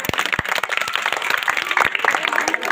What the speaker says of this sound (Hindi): ताली बजाओ तुम लोग।